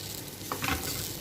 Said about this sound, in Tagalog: Kaya haluin na natin ang haluin